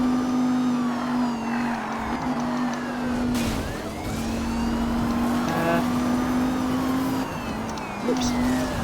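Porsche engine droning steadily during a police chase in a video game, a sustained hum that shifts slightly as it drives, with other cars whooshing past and faint siren-like sweeps behind it.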